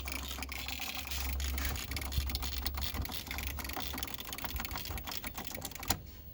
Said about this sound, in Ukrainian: Клацай реле.